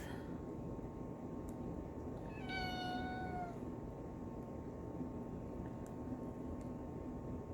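A kitten gives one rising and falling meow partway through, heard over a constant steady hiss and hum of background noise.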